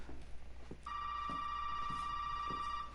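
A telephone rings in the Resident Evil 7 video game, a steady electronic tone that starts abruptly and holds loud and unbroken for about two seconds over a low background hum.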